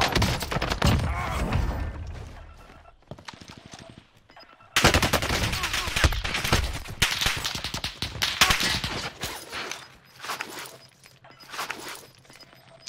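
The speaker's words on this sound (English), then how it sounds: "There's two people shooting me." Bursts of rapid gunfire from players in the Warzone video game, loud close automatic volleys with single shots and gaps between, scattered across the stretch with footsteps and some talk.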